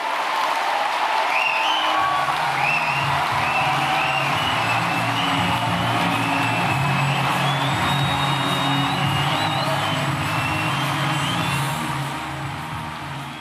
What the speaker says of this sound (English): taking the applause after her spring conference speech in Aberdeen